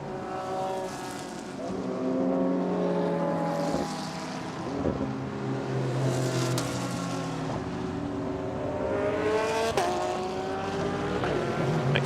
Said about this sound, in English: the 888 JMR Mercedes then accelerates up towards 130R.